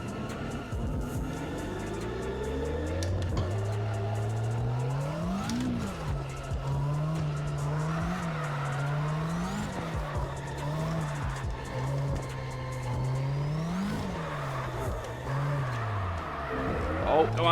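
A race car engine in a racing video game played on a Moza R5 wheel holds a droning pitch, rising and dipping through repeated revs and tire squeals, while someone talks over it.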